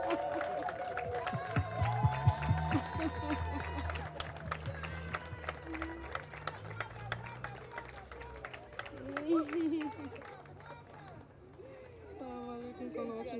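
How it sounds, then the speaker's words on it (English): Audience applause at a diversity celebration ceremony, scattered clapping and light cheering rising under a speaking voice, then settling into a sustained patter of hands. "And a big applause, please"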